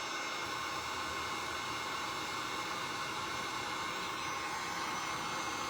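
A hair dryer blows steadily and loudly without pause, drying fresh paint on a shamrock craft project; a broad, even airy roar holds for the whole stretch with no voices.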